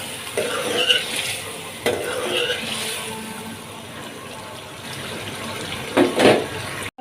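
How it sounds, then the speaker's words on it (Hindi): Mutton sizzles in a karahi over a high flame, a steady close frying hiss broken by the scrape and clatter of a spoon stirring against the pan. "अब इसको हम लोग कढ़ाई में अच्छी तरीके से इसकी भुनाई करेंगे"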